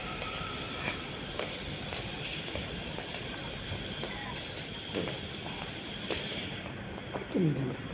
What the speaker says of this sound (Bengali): এই ট্রেনে করে আমরা চলে যাবো এয়ারপোর্টে ডাইরেক্ট